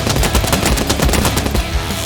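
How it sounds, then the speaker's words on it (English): A machine turret in a box fort fires a rapid, loud, continuous stream of shots, each burst close together in a fast even rhythm, heard up close with no talking. "good to know that the machine turret's working"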